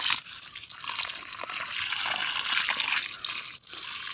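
Water poured over a Malabar spinach plant, a steady broad trickling splash lasting the whole stretch with a brief dip near the end, close and fairly loud, no talk.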